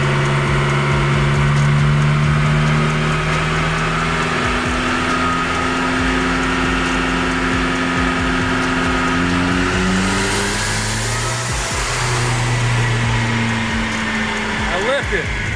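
A turbocharged Ford SVO engine with Holley EFI revs on a dyno. It gives a loud, sustained roar with rising and falling harmonic tones as the revs build, and a whistling surge near the end.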